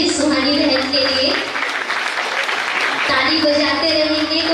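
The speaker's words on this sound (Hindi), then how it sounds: "तो एक बार आप लोग जोरदार ताली बजा दीजिए सुहानी बहन के लिए।" Applause from the audience at a New Year celebration at a Bihar retreat centre, greeting the singer Suhani. Broad clapping fills the whole stretch, dipping briefly midway, with tonal music or voices sounding over it throughout.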